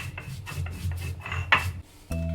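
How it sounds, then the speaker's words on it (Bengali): Spices ground on a shil-pata grinding stone for a jackfruit-seed layer chicken bhuna, the stone rubbing in quick, rhythmic rasping strokes close by, ending in a steady low hum. "এখন এই মশলাটাকে শিলপাটায় ভালো করে মিহি করে নিচ্ছি।"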